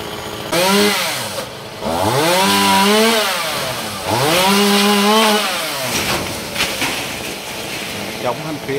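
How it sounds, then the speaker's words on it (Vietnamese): A Shindaiwa 1039 chainsaw cutting a coconut tree, its engine revving up and dropping back in repeated loud, close surges before settling into a rougher idle. "Máy cưa đó là máy cưa Shindawa 1039 nha các bạn."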